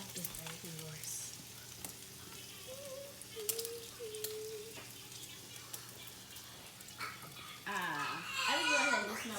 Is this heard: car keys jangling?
no